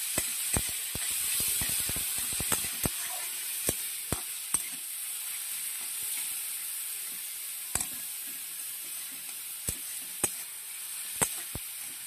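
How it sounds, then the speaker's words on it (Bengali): Grated tomato paste fries in a pan until it turns reddish, giving a steady soft sizzle and hiss. Sharp spattering pops and clicks break through at irregular moments. "সেগুলোকে আমি লালচে করে ভেজে নেবো একটু"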